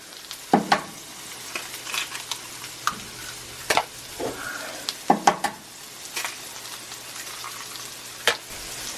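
Food frying in bacon fat in a cast iron pan, a steady close sizzle punctuated by repeated sharp scrapes and clicks of stirring, no talking.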